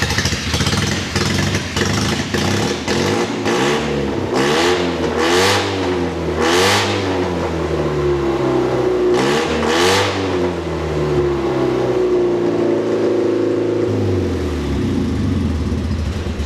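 A straight-piped JDM shop van engine revs repeatedly, each rise and fall of the blat clear and loud up close, then settles into a rough, lawnmower-like idle.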